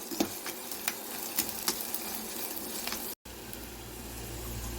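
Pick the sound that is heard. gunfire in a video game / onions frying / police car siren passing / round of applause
onions frying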